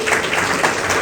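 Audience applause welcoming an author at a book launch ceremony: a brief burst of thick, continuous crowd clapping at a strong level.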